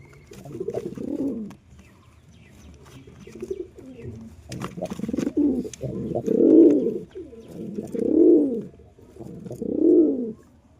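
Mataj pigeons, a male and female newly paired, coo in a series of soft, rolling phrases, each swelling and fading, repeated about five times at close range with no talk over them.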